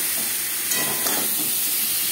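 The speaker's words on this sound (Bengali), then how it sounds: "হালকা করে ভেজে নেব" Potatoes and tomatoes lightly frying in a pan for aloo mutton curry, a steady close hiss of sizzling oil that holds evenly throughout without voices.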